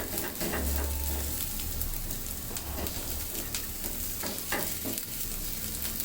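Bottle gourd leaves fry in a pan, giving a steady, close sizzle with soft stirring scrapes and no talking.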